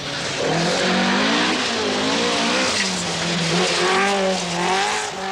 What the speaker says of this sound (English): Young Malcolm Wilson has stayed faithful to Escorts and is again displaying his own particular brand of fast driving.